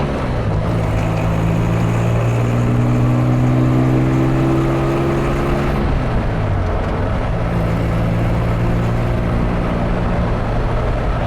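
A 1955 Jaguar XK140 fixed-head coupe engine pulling steadily on the road, a loud continuous drone that rises in pitch through a long pull, drops abruptly around a shift, then climbs again, with no talking.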